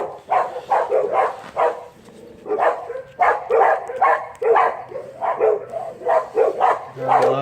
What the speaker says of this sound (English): I love these dogs, huh?